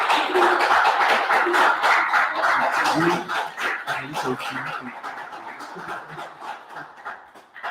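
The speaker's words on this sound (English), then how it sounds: "put your virtual fingers together and snap and clap" A church congregation at a Sunday worship service claps and snaps fingers in a dense, rhythmic patter, loud at first then thinning out, with voices calling out underneath.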